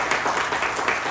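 Many hands clap at once in a church service, giving a brief, even wash of applause from a seated congregation with no speech over it.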